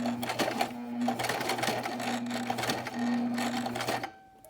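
A sewing machine stitches a pleat into a duck cloth face mask, running in a steady continuous whir for about four seconds before stopping abruptly.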